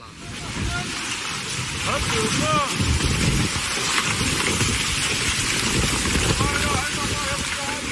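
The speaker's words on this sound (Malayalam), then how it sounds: "കാറ്റിനും മിനിറ്റുകൾ നീണ്ട കനത്ത മഴയ്ക്കും" Heavy rain and wind storm in Yanbu, Saudi Arabia: rain pours down in a dense, steady roar, with gusting wind and a faint rumble beneath, unbroken throughout.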